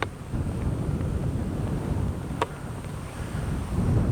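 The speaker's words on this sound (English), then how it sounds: "It's still windy. It's still awfully windy." Wind buffets a microphone outdoors at night at a radio-control plane flying field, a constant low rumbling roar with gusty swells and no clear talk over it.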